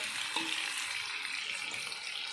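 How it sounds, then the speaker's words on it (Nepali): Jackfruit pieces frying in hot oil for pickle, with turmeric added, giving a steady broadband sizzle throughout, close and even, with no voices. "खटरलाई चाहिँ एकछिन यो तेलमा फ्राई गर्नुपर्छ"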